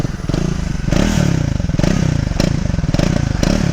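A Triumph Speed 400 motorcycle engine revs repeatedly close by, its throaty exhaust rising and falling in several bursts.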